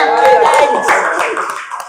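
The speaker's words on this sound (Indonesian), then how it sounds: "Tepuk tangannya" A small group claps briefly in an indoor gathering, quick light clapping that overlaps with people talking.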